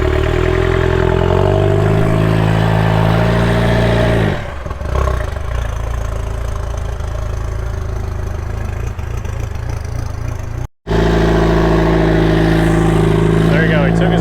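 A rock crawling buggy at Sand Hollow, just after a broken chain and while its oil pressure is being sorted out, runs its engine with a loud, deep idle rumble, briefly dips, then picks back up with revving; voices talk over it.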